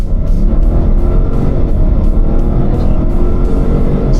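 A 2024 Ford Expedition Max Limited, a heavy full-size SUV, accelerates hard with a loud, steady engine roar that holds strong throughout, heard from inside the cabin with no talking.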